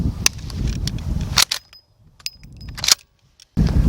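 A Cimarron 1865 Spencer Carbine lever-action rifle is fired outdoors at a range: a loud sharp report followed by metallic clicks and clacks of the action being worked, then another shot.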